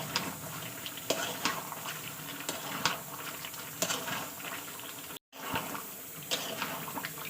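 Boiled tomatoes and peas being stir-fried in a pan, with a steady soft sizzle, repeated stirring scrapes and light clinks of a utensil against the pan, close up with no voices.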